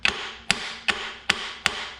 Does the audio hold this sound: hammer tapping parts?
yes